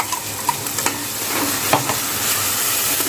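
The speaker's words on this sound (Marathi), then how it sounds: "तर हे छान असं फ्राय होतंय" A tomato and coriander paste fries with fish in a pan, sizzling continuously up close while a spoon scrapes and stirs in short strokes; nobody speaks.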